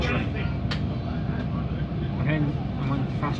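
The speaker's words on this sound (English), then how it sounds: "I'm on the fast train to Lisbon." Steady rumble and rattle inside a fast train bound for Lisbon, a continuous loud cabin noise with faint clicks and bumps, while a voice talks over it.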